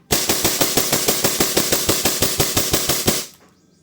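Tuned SSP5 airsoft pistol firing BBs in a rapid string of about twenty sharp, evenly spaced shots, loud and close, before the firing stops abruptly.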